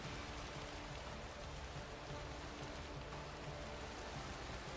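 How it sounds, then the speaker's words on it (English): Continuous rainfall in a Middle-earth video game, a soft, uniform patter and hiss that stays level from start to finish with no voices. "Of course the rain's not going to listen to me."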